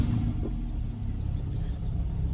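Porsche 991 Carrera 4 Coupe with PDK gearbox, its engine running right after starting, a low steady rumble close by with no talk over it.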